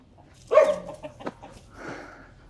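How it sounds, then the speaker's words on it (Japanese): An unchained dog barks at a passerby on a rough off-road track near Huay Xai, Laos: one sharp, loud bark up close, followed by a few softer yips and a whimpering trail-off. "途中鎖に繋がれてない犬にめちゃくちゃ吠えられて、かなりスリリングな道です。"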